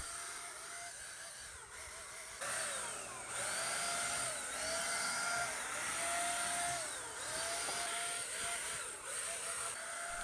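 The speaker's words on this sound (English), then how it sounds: "I've had great results with this paint sprayer." An electric paint sprayer coating an antique dresser runs with a continuous high buzzing whine and hiss, close and steady, growing louder after a couple of seconds and holding throughout.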